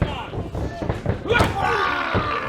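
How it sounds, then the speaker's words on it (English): A heavy thud of two wrestlers colliding in a shoulder block lands mid-clip, amid a commentator's talk and crowd noise in a large arena. "Shoulder block, nobody moves."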